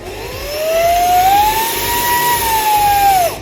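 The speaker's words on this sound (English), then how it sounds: "This is a portable vacuum from Fanttik." A Fanttik portable USB-C car vacuum cleaner runs close up, its motor whine rising in pitch as it spins up and then holding a steady, loud tone before cutting off near the end.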